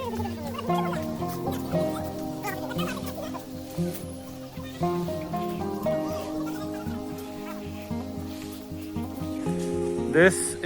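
Chickens cluck and squawk at a bird market, a steady busy chorus of fowl calls over a dense background din.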